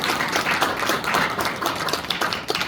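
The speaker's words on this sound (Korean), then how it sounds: "박수를 드리겠습니다" Applause for a pastor at a Korean church gathering, dense broadband clapping sustained evenly for a few seconds, fairly close and loud, with no talking over it.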